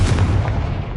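Confringo blasting spell detonating in Hogwarts Legacy, a single loud close explosion with a deep booming thump that fades quickly over a second.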